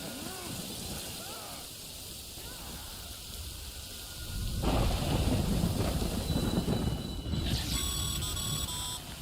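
Rain falls in the video game Death Stranding, a soft hiss that swells louder and denser midway, with bright synthetic electronic tones chiming near the end.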